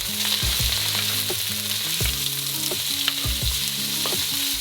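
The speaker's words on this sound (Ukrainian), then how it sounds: "У пательню висипаємо помаранчеву соломку і перемішуємо." Carrot strips fry in sunflower oil in a wok, with loud continuous sizzling and repeated scraping stirs of a utensil against the metal close by.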